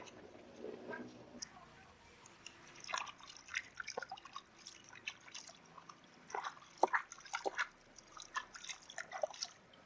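Water drips and trickles as an orchid is soaked along with its pot, producing faint, irregular plinks and splashes scattered across a quiet background.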